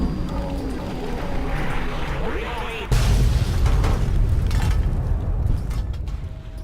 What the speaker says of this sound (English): That was a fairly major explosion